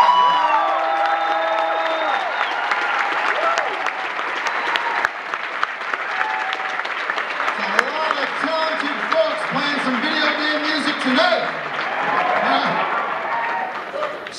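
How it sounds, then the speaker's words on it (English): A large concert audience applauds and cheers for a stage full of about a hundred musicians, including a symphony orchestra, with steady loud clapping, whoops and crowd voices filling the hall throughout, and music-like tones faintly underneath. "So let's give a round of applause."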